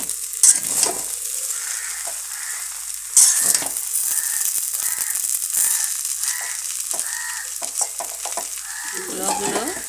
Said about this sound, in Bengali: একটু নাড়াচাড়া করে মিশিয়ে নেব।